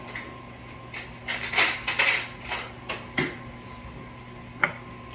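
Metal fork and pan handling while cooked, fork-tender pork butt is pulled apart: a run of scraping and clinking knocks, several close clanks grouped early, then sparser taps and one sharp clink near the end, no talk.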